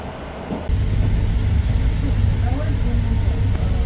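Rumbling interior of a train rolling into Kievskaya station in Moscow, a steady low drone with faint clatter that grows louder after a quieter opening moment and continues without break.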